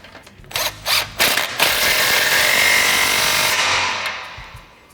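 An impact gun fitted with a 15 mm socket tightens a muffler clamp on a 2009-2018 Ram 1500 exhaust: a few short rattling bursts, then a loud sustained hammering whir that winds down, close up.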